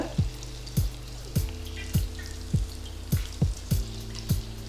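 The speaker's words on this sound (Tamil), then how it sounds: "சிக்கன் துண்டுகளை ஒன்று ஒன்றா போட்டு நல்ல கிறிஸ்பியாக க்ரன்ச்சியாக ஃப்ரை பண்ணி எடுத்துக்கோங்க" Marinated chicken breast pieces deep frying in oil, a steady bubbling sizzle with regular sharp pops or clicks about every half second, close and moderately loud.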